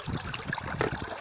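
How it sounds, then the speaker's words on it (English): Water trickles and gurgles steadily as it fills a half-full bucket, a continuous close liquid dribble lasting just over a second with no talk. "This thing's filling up with water."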